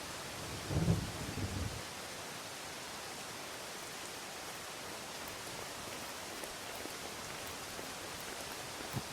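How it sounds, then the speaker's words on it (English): Heavy rain pours steadily as a broad, continuous hiss throughout an outdoor running event, with a brief low rumble near the start and no voices. "We can barely see anything squinting past the battering rain."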